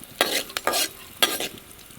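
Coriander seeds with a spoon of cumin are dry-roasted and stirred in a pan, giving a few short scraping, rattling strokes against a quiet background.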